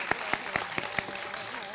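An audience claps for a girl's Bharatanatyam dance at a Kerala dance competition, giving a short burst of rhythmic, evenly spaced claps, fairly close, with a voice faintly underneath.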